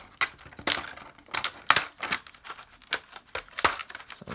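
Crinkly plastic and cardboard handling as an S.H. Figuarts Spider-Man figure package is opened, a string of sharp irregular crackles and rustles close up, without talk.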